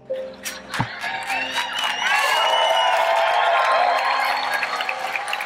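An audience at a presentation claps and cheers, starting with scattered claps and swelling into a steady roar of applause with whoops and shouts that holds at full strength for several seconds.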